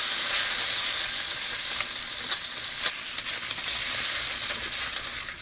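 Bacon and eggs frying in a hot pan for a New York bodega-style breakfast sandwich, giving a constant close, crackling sizzle with scattered sharper pops and no voices.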